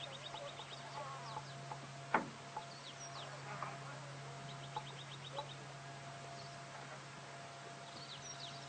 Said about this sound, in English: lots of good bird life happening around at the moment